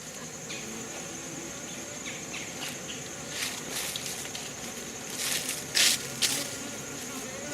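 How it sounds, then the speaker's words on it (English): Honey bees buzzing around opened hives during an oxalic acid vaporization treatment, a faint steady hum with individual bees zipping close past now and then, a few louder passes near the end. "Myself and Jim Schmalz going to do some work on my hives this morning."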